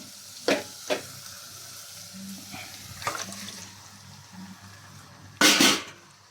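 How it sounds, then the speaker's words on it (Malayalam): Chicken goes into a pan of sizzling tomato for a chicken curry, a short loud hiss of frying near the end after a few quiet clatters of utensils on the pan. "നമ്മൾ തക്കാളി ഇട്ട് അടുത്തത് ചിക്കൻ ഇടാൻ പോവാണ്"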